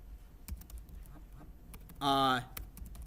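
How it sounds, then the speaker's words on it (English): Computer keyboard keys click in irregular bursts of typing during a programming lecture, close and crisp, interrupted by a short tonal honk-like noise partway through. "I know it's a bit much typing"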